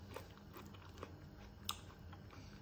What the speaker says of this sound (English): The crunch of the apple and then the cold from the like frozen mango.